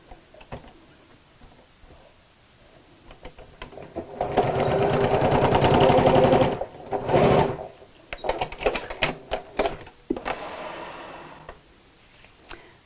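Sewing machine stitching across the end of a seam on a travel jewellery case, a loud close rapid whir of a few seconds, then shorter stop-start bursts and handling clicks.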